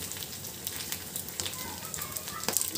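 A potato patty tikka for ragda pettice fries in a pan, giving a faint, steady sizzle with scattered small crackles and pops throughout.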